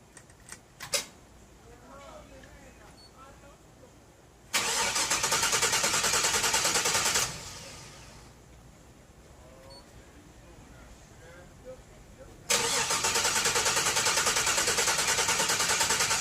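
A Ford car engine cranks and fires up after being fueled, loud broadband roar for about three seconds, dropping off, then catching again and running strongly to the end, with a few faint knocks and handling noises in between.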